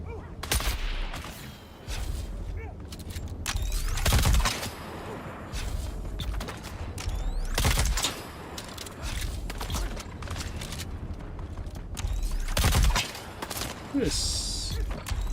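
Gunfire in the video game Dune Awakening, irregular loud shots and bursts mixed with mechanical clanks and creaks, continuing throughout.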